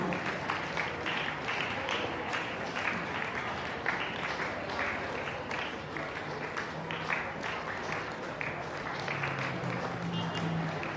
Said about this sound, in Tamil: கைதட்டுவோம்.